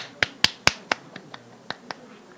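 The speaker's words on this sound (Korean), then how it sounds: "다시 한번 박수를 부탁드립니다." A handful of scattered hand claps from a symposium audience at an urban agriculture event, about eight sharp claps that start loud and quickly thin out and fade within two seconds.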